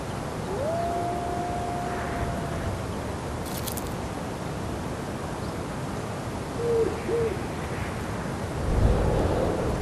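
Winter map ambience from an Unreal Engine 5 game: a steady wash of cold wind and airy noise with a couple of owl hoots drifting through, soft and continuous with no speech.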